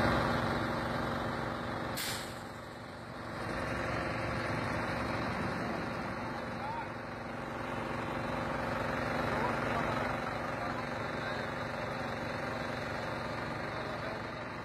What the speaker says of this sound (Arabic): خلونا نشوف مقطع سيارات الأطفاء وهي تحاول إخماد هذه الحرائق.